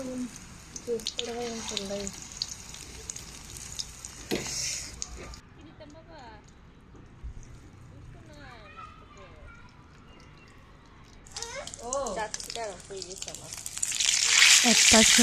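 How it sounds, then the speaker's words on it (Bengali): Fish roe fritters sizzle in hot oil in a wok, a bright hiss that comes and goes and swells loudest at the end, with someone talking over it. "কড়াইতে তেল গরম হয়ে আসলে একটি চামচ দিয়ে মাছের ডিমগুলোকে বড়ার সাইজ করে ভেজে নেব"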